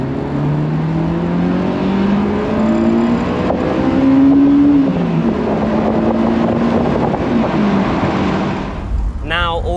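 A Honda VTEC engine screams upward toward 9,000 RPM, a loud rising wail with shifting harmonic pitch that climbs, dips between gears and climbs again, with wind noise throughout and a brief voice near the end.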